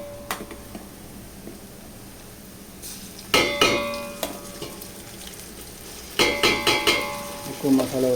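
Onions fry in a pan as ginger paste goes in: a steady, close sizzle broken by two bursts of clattering stirring and scraping, with no talking.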